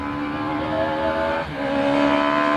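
Citroën C2 rally car engine, a small four-cylinder, held at high revs with a steady loud harmonic drone, a brief dip near the midpoint as it shifts, then pulling hard again.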